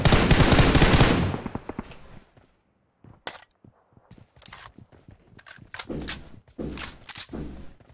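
Gunfire in a shooting video game: a long loud automatic burst, then a scatter of sharp single shots and short bursts, some nearer and some farther, with no talk.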